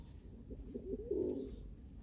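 Soft low pigeon cooing, a short rolling coo swelling near the middle over a faint background hum.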